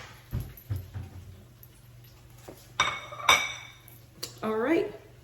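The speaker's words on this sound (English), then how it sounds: "Let me get a little plate to plate it here for you guys." A plate set down on a kitchen counter while a fried plantain sandwich cooks, a few faint clinks and taps of dishware with bright ringing ceramic sounds, light handling noise between them.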